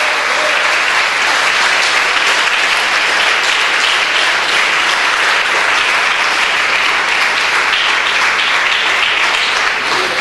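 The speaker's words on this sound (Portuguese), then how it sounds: "Pode aplaudir o Senhor, irmão." A church congregation applauds steadily and loudly throughout, a dense continuous wash of many hands clapping with no pause.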